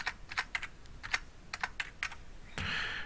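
Typing on a computer keyboard while configuring RIP version 2 on a network router: a few quick bursts of close, crisp keystrokes with short pauses, then a brief run of faster, denser clatter at the end, alone with no talking.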